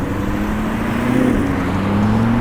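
A car driving past on a road while walking, a steady close engine hum rising slightly in pitch and loudness midway, with no talk over it.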